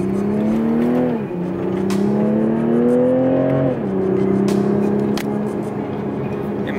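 Seen from inside, a 2020 Toyota Supra pulls hard through the gears. The rising engine note climbs, drops at each upshift and climbs again, loud and continuous, with faint road noise behind it.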